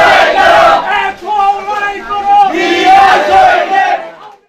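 A crowd on a protest march in Chattogram, Bangladesh, chants slogans in unison, loud and close, voices rising and falling in rhythmic phrases with a brief pause between repeated lines.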